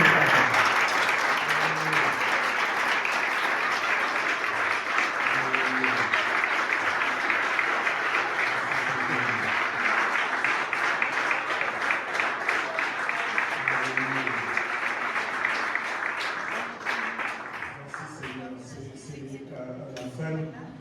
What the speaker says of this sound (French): On va applaudir encore une fois.